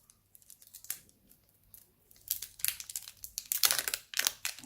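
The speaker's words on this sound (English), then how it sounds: "So let's unwrap this guy." Packaging of a Xiaomi smart socket plug being unwrapped by hand, quiet crinkling and tearing of plastic and foil that grows busier and louder toward the end.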